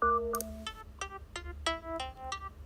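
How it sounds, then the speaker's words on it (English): Sonic Pi's pluck synth plays a short run of bright, guitar- or harp-like plucked notes, each a crisp attack with a quick fade, spaced in a loose melodic rhythm over a quiet low hum. "There's a pluck, just like a guitar or harp"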